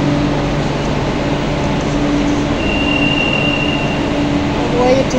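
Rail cars at a station give off a loud, steady rumble, with thin metallic wheel squeals rising over the continuous noise.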